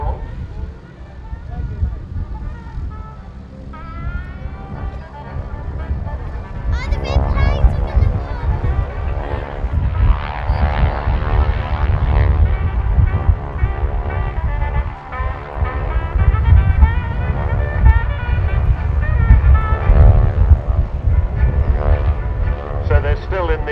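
Breitling wingwalker biplanes flying in stack formation at the RAF Cosford Airshow, their piston engines a steady loud drone throughout, with a commentator talking over the aircraft noise.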